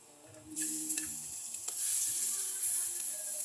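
Grated garlic and onion sautéing with ginger in a hot pan for ginataang susong pilipit, a steady bright sizzle that swells as the aromatics hit the oil, with a few faint utensil taps.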